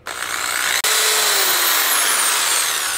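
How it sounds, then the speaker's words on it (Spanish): An electric drill bores through a thin tin can, giving a loud, steady high-pitched whine that cuts out briefly before restarting and running on, with a rising squeal as the bit turns through the metal. "Si usted no tiene taladro para abrir estos agujeros"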